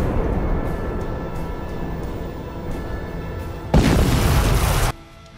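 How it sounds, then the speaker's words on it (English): A giant atomic explosion in a Godzilla-style monster game, heard as a sustained deep roaring rumble that suddenly swells into a loud burst near the end before cutting off. "Oh, the screams will be beautiful in a giant atomic explosion."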